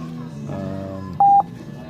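A 2018 Honda Goldwing motorcycle's Bluetooth phone-pairing tone, a short, loud beep over someone talking.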